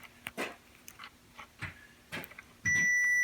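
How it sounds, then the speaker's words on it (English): A few faint clicks and taps, then a continuity tester's loud steady electronic beep starts abruptly and holds to the end. "this one here, I get my beep."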